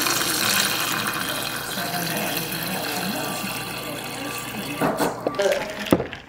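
Cold water runs from a tap in a steady, close hiss that fades slightly, followed by a few brief clunks and splashes near the end.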